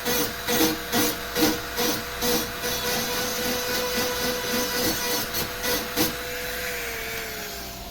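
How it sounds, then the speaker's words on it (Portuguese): A handheld micro grinder rotary tool scrapes rust off a metal oven part, whining steadily with rhythmic bursts of rasping as it is pressed and lifted, close and fairly loud. "Micro retífica, ligar, fazer a raspagem"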